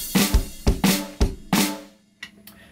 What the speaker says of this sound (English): So we've got all flams on the snare, crash on the 1